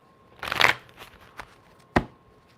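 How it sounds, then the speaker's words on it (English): A quick riffle of tarot cards being shuffled up close, followed by a couple of sharp taps as the deck is squared. "So let's get a quick shuffle."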